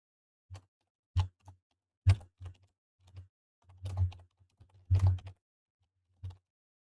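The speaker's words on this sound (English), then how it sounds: "You can just type in" Someone types on a computer keyboard, with a few scattered soft key clicks and short bursts of taps, close and quiet against silence.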